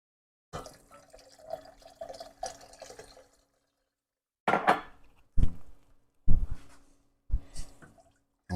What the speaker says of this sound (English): we're going to go down with 2 cups of just white distilled vinegar